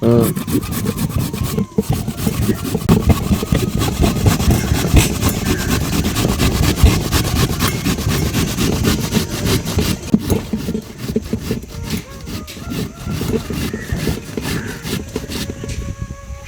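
An electric cutter slices steadily in a home kitchen, a continuous buzzing, rasping drone with repeated scraping strokes, loud and close, with a brief break near the start.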